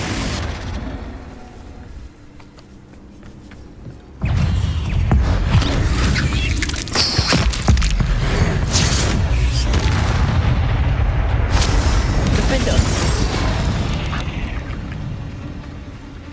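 Confringo fire-blast spell explosions in the Hogwarts Legacy video game, a loud sustained roaring boom with crackling bursts that erupts suddenly and rumbles on, layered with game combat effects.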